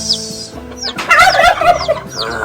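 Turkeys gobble in a backyard free-range farm among chickens and ducks, with several loud, close gobbling bursts over about two seconds and high chirps from chicks or other birds around them.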